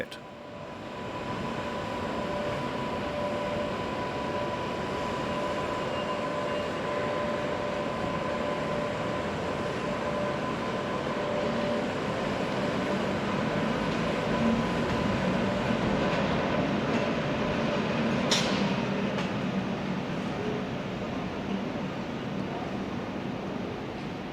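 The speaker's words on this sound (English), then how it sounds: "Our final shot is of these 2 ex-British Rail Class 86 electrics at Sofia Station." Two ex-British Rail Class 86 electric locomotives at Sofia Station give off a steady, even rumble and electrical hum that holds throughout, with a brief high squeal near the end.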